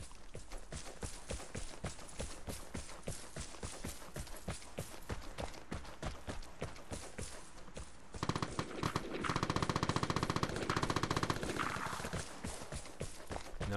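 Distant gunfire from a firing range in the Vigor video game, rapid repeated shots in a steady rhythm, briefly denser and louder partway through, faint and with no talk.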